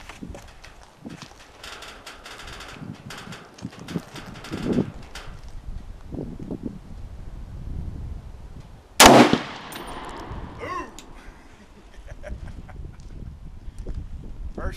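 A single sharp, loud rifle shot from a Sig Sauer 716 DMR rings out at an egg target outdoors, a sudden burst with a short decaying tail, set amid wind noise and faint background talk.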